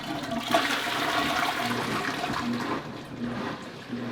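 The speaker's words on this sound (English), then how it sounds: "And it flushes." A newly installed small toilet flushes with a steady, loud rushing of water that churns for about three seconds, then tapers into a quieter refill.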